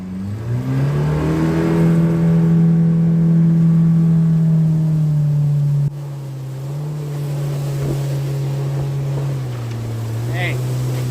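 A Legion 1654 boat with a 125 outboard jet engine runs steadily and loudly close by, its drone rising then holding at a constant pitch, dipping briefly midway, with wind and water noise.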